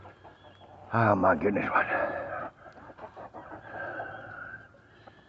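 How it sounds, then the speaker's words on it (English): A crowd of chickens, including roosters, clucks and squawks nearby around a feeding spot, while a person talks over the birds. "There's too many chickens here."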